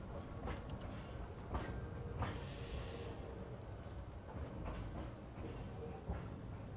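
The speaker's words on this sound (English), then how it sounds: "Let's move this train back behind the switch here." A train rolls along the tracks in the video game Satisfactory, a faint continuous low rumble and rattle with a few light clanks, fairly distant and steady.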